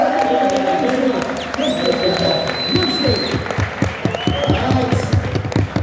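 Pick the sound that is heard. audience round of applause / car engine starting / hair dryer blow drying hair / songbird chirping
audience round of applause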